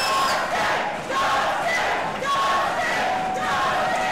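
A professional wrestling crowd roars and cheers during a JJ Blake versus Dustin Nguyen match, a dense continuous wall of voices swelling and holding loud throughout, with chants blending into the din.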